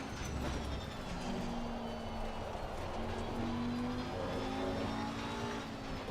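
Lamborghini race car running an aggressive setup on the Nordschleife in Assetto Corsa Competizione, a steady, fairly quiet engine drone that rises and shifts pitch as it pulls through the gears without pause.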